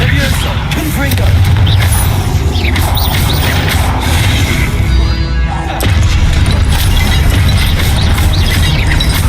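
A Confringo blasting spell explodes in Hogwarts Legacy, a dense, loud crash-and-boom wash of game combat noise that rumbles on continuously for several seconds with a brief dip midway before surging again.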